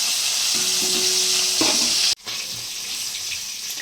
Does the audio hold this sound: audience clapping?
no